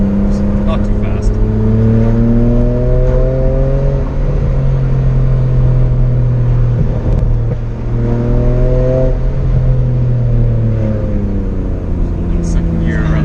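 A BMW 128i inline-six with M Performance exhaust drones loudly while driving through corners in second gear, revving and falling in pitch twice, with people talking over the steady engine noise.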